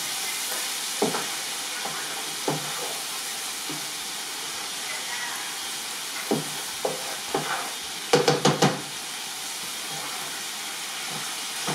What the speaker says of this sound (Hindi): Alright, let me just stir once